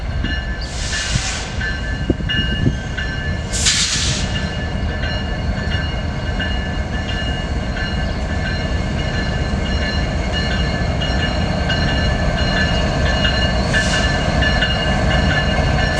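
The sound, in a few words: westbound coal train hauled by EMD SD70ACE locomotives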